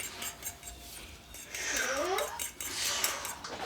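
A spicy rub for a deep-fried Thanksgiving turkey is mixed in a bowl with utensils, giving soft metallic scraping and clinking close by, with a brief squeaky scrape in the middle.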